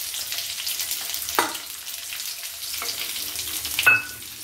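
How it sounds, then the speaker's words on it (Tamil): Small onions and garlic frying in oil for Tamil kuzhambu, a soft steady sizzle with a few sharp stirring clatters of a spoon against the pan. "இப்போ வெங்காயமும் பூண்டும் வந்து நல்லா வதங்கட்டும்"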